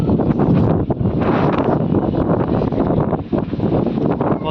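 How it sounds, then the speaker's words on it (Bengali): Strong monsoon storm wind roars and buffets against the microphone, a loud, continuous rumbling gust with no letup, and the storm also brings lightning. "কত জোর হাওয়া চলছে এদিকে।"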